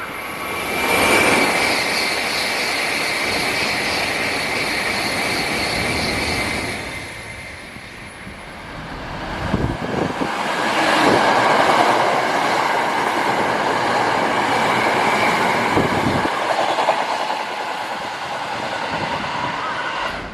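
A Shinkansen bullet train in Osaka rumbles past with a rising, sustained roar and high whine, building and fading over about twenty seconds, no voices.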